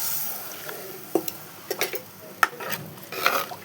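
Curry made with roasted coconut masala being stirred in a pot after water is poured in, a few scattered scrapes and light metal clinks over a faint simmer, close and fairly quiet.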